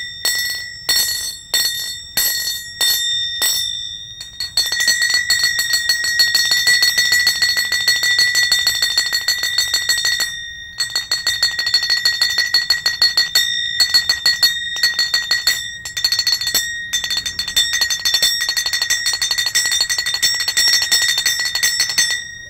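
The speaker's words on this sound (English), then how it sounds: "Then you can make very sweet sound by hitting" Kartal hand cymbals struck on the side and corner give bright, ringing metallic clinks, a few separate strikes at first and then a rapid, steady stream of close, loud jingling with brief pauses.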